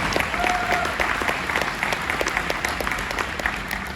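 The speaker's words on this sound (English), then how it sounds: "round of applause for the Next Web" An audience at the Next Web Conference 2021 gives a round of applause: a continuous, even wash of clapping from a crowd, moderately loud, with no talk over it.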